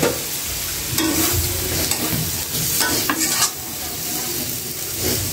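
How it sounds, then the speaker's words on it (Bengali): Fish sizzles while frying in hot oil in a pan at a home kitchen, a steady crackling hiss broken by occasional utensil scrapes and clinks against the pan. "মাছ ভাজিটা।"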